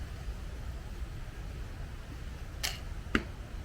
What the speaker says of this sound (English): we're going to fire a target bolt at it